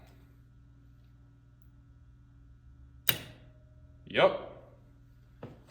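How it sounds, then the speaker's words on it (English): An Arduino-driven relay and solenoid click on in an auto-fill dog water bowl: a sharp, close click over a faint low hum, a brief spoken word, then another softer click. "that's the sound of the relay switching the solenoid on. It was a small click followed by almost immediately a big click"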